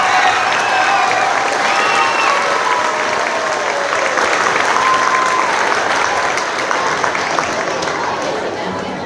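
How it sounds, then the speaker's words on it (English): A concert audience applauds middle school bands at a school district concert, with dense, loud, continuous clapping and some crowd noise filling the whole stretch without a break. "Another round of applause for them, please."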